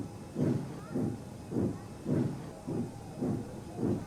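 A steam locomotive puffs toward a station in a steady rhythm of seven chuffs, each a soft breathy burst with a hiss between, moderately near and fairly quiet.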